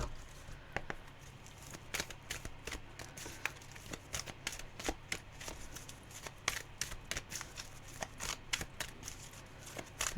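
A thickly laminated tarot deck is shuffled repeatedly, a quick series of crisp riffling snaps and slaps, close by and fairly quiet, with no talking.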